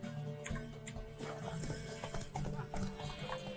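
Horse hooves clip-clopping in The Witcher 3: Wild Hunt, a steady rhythmic trot over a continuous bed of game ambience and music, with no talking.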